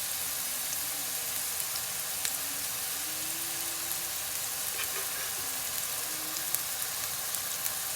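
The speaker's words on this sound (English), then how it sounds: "I'm gonna go ahead and put this in the pan" Chicken breast marinated in Trader Joe's elote seasoning searing in a hot pan, a steady even sizzle with faint crackles running the whole time, close and moderately loud, with a low hum beneath.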